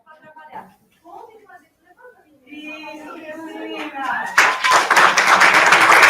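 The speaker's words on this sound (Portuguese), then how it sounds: "Uma salva de palmas para a equipe da doutora Carolina." Clapping builds at a plenary meeting in Brazil, starting after a stretch of talk and swelling into dense applause from the audience over the final couple of seconds.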